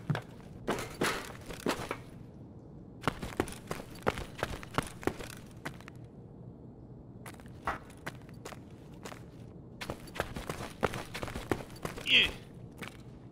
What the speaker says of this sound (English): Your footstep.